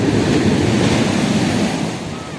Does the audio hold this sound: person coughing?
no